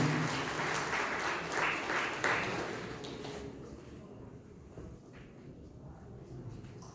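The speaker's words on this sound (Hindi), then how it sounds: "ताली से जोरदार स्वागत," Audience applause at a railway week award ceremony as a guest is welcomed onto the stage, dense clapping that fades after a few seconds into quieter room murmur.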